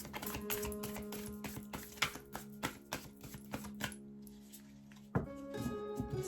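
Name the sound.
shuffling tarot cards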